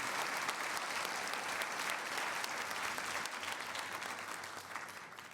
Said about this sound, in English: can we have a huge round of applause for Jewish Senior Life